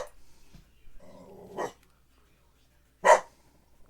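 A pet dog indoors gives a short bark, and a second sharper bark follows a moment later, with quiet room sound in the gaps between them.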